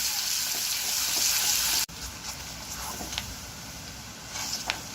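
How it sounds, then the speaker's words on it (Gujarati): Finely chopped onions and garlic sizzle in a hot pan, a loud hiss that drops abruptly as they settle into a quieter, steady crackle with small pops. "એ નાખશું કાંદાને હવે સાતડવા દઈશું આપણે"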